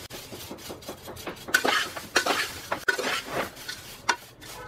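Spiced dry-roasted poha being stirred in a pan over a low flame, with a dry scraping rustle, scattered spoon clinks against the metal and soft rhythmic sweeps, close and fairly steady with no voices.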